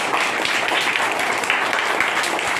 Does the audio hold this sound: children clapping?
yes